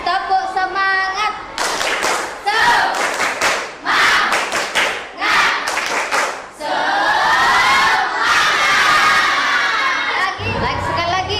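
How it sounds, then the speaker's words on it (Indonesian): Children in a classroom perform a rhythmic clapping chant, bursts of claps mixed with shouted voices, led by a teacher's voice and repeated in several loud rounds. "Tepuk semangat."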